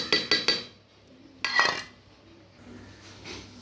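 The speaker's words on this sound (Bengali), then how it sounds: "প্রেসার কুকারে দিয়ে দিয়েছি আমি, এবার থেতো করা আদাটা দিয়ে দেব।" Crushed ginger added to a pressure cooker: three quick metallic clinks of a utensil against the pot, then a louder scraping knock and softer rustling, close and brief.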